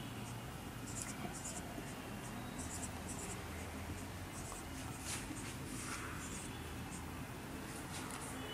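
A pen scratches steadily across paper during a lesson on number systems, making a continuous close scritching sound with short stroke accents, while a faint voice murmurs beneath it.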